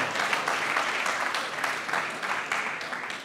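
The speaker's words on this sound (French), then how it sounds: "Je me demande ce que vous applaudissez là en fait." Applause from a comedy show audience reacting to a stand-up comedian's routine, a full, steady burst of clapping from a crowded room, rising and falling slightly in waves throughout.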